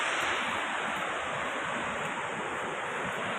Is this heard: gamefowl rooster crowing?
no